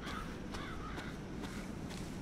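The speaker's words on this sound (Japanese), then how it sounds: "カラスだ。" Crows caw in the Resident Evil 7 video game: several short, repeated calls over a steady, dense background ambience, at moderate loudness.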